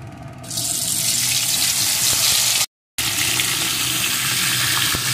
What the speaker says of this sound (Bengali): এখন আমি লবণ হলুদ মাখানো ওই ভেটকি মাছের কাঁটাগুলোকে ভেজে নেব